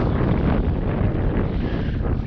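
Steady wind buffeting the microphone at a reservoir dam wall by open water, a continuous low roaring rumble with no breaks, loud and close throughout.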